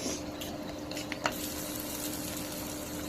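Green chilies fry and sizzle steadily in hot oil in a pan, a dense continuous crackle with a couple of brief sharper pops and light stirring scrapes, close and fairly quiet, with no talking.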